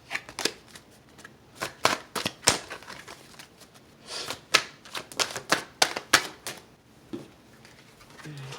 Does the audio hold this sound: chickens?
no